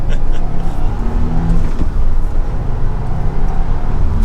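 A 2023 Subaru WRX Limited accelerates hard on a test drive, its engine note loud and gruff, rising in a brief surge with road and wind roar underneath.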